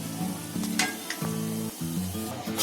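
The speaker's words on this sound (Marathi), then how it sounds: "या सुपाला आता ही उकळी आलेली," Manchurian soup coming to a boil in a pot at a street food stall, a steady bubbling sizzle with a low droning tone that runs through it, close and continuous.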